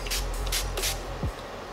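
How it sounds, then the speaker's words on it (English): Three quick hissing sprays from a pump mist bottle, close and fairly soft, evenly spaced, followed by quiet. "Spray my face with some rose hip facial spray."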